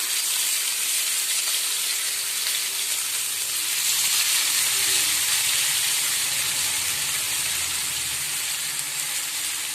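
Dam-caught fish fry in hot oil in a small pan, giving a loud, continuous hiss and sizzle that holds steady throughout, no speech.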